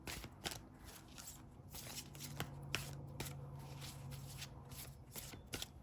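Tarot cards shuffled by hand, a steady crisp riffling and flicking with soft slaps, close and fairly quiet, continuing throughout with no talk.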